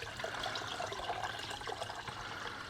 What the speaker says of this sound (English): So let's add a little bit of water now that we have that.